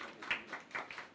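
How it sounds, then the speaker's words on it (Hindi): Scattered hand claps at a Milad gathering at the Cosmo Club in Bagh-e-Jinnah, Lahore, a few bursts of clapping from a small group in one short, fairly quiet spurt. "बहुत तालियां जी"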